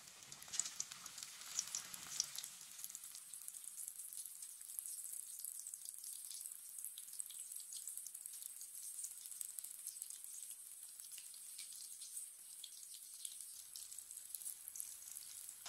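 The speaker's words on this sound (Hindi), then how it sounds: "पकोड़ों को 2 मिनट के लिए फ्राई होने देते हैं" Pakoras made from gram flour batter frying in hot oil, a steady soft sizzle with fine crackling that runs continuously without pause, fairly faint and close.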